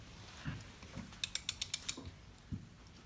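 A wrench on an extension clicks through a quick run of about seven sharp ratchet clicks on a very tight lug nut during a brake job on a Nissan Armada, with a few dull knocks around it.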